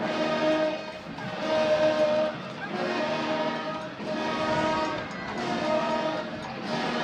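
A third-down foghorn blares at a high school football game, Pleasant Grove at Westlake, in long loud droning blasts that rise and dip in a repeating pulse, with faint crowd noise underneath.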